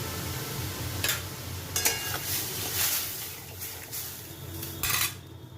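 Panch phoron and a bay leaf fry in hot oil with a continuous, even hiss, broken by several sharp clinks of a metal utensil against the pan.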